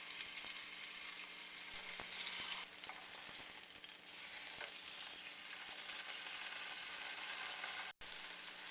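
Steak sears in a hot pan for Beef Wellington, giving a steady, dense sizzle that carries on without pause before briefly cutting out near the end.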